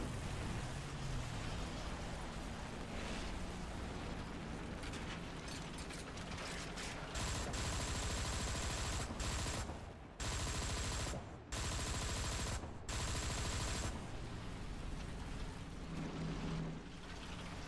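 A tank's machine gun fires in War Thunder, a Panther D tank battle, in long rapid bursts broken by short pauses, loud and harsh over grinding mechanical clatter.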